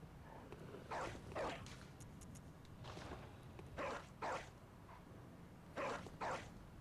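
A dog in the video game Bloodborne barks in short paired bursts, several quick double barks spread across the clip against a faint background.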